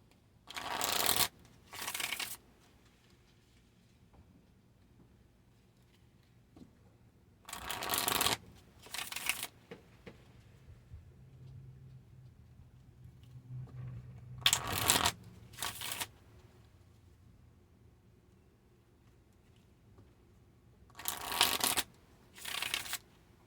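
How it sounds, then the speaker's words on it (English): Tarot cards being shuffled in several distinct bursts of crisp riffling, each lasting a second or two, separated by quiet pauses with a faint low room hum. "I'm just going to keep shuffling them until they feel right."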